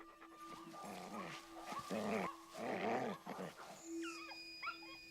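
Feral dogs interbred with wolves, medium-sized and dingo-like, give a series of howling, whining vocal calls in several bursts, with a whistling wail toward the end and a faint steady tone underneath.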